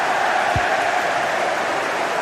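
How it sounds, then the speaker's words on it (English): A stadium crowd in a football video game roars and applauds steadily, a dense, even wash of cheering with a single low thump partway through. "The crowd certainly think so. Just listen to them."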